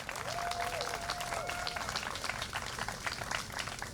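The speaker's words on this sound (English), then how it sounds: "About a round of applause for our Hamilton Concert Band led by Dave Birchfield." A crowd at a Fourth of July concert band program applauds steadily, a dense wash of clapping hands that holds at the same level throughout, with no voices rising above it.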